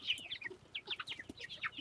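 Chickens cluck busily in a chicken coop on a homestead, a rapid stream of overlapping close clucks and chatter, with no talking.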